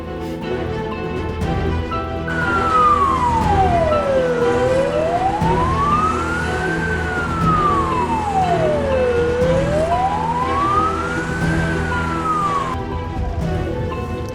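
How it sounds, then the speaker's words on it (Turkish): An ambulance siren wails, rising and falling slowly in long sweeps, loud and continuous over a rumbling vehicle engine. "Ambulansı kaybetmeyelim ne olur."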